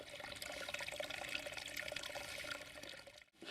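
Water gushes steadily into a squeezed plastic bottle at a wild camping spot, a close, continuous rushing pour lasting about three seconds before a brief break.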